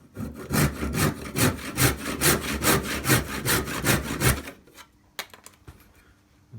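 A hand saw cutting through a wooden hammer handle in rapid, even back-and-forth strokes, close and crisp, the rhythm stopping partway and followed by a few light knocks and scrapes.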